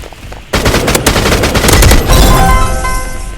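Rapid bursts of video game gunfire, loud and dense, with automatic weapon chatter layered over sharp booming shots, tapering slightly at the end.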